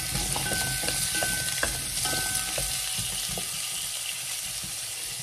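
Potatoes and carrots fry in hot oil in a pan for a Vietnamese chicken curry, giving a dense, continuous loud sizzle with occasional stirring clinks.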